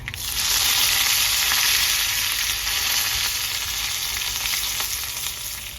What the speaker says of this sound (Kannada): ಸಾಸಿವೆ ಸಿಡಿಯೋಕ್ಕೆ ಶುರು ಆಯಿತು